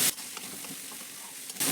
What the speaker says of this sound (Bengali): তো ভালো করে একটু মিশিয়ে নাড়াচাড়া করে আদা রসুনটাকে আমি ভেজে নেব।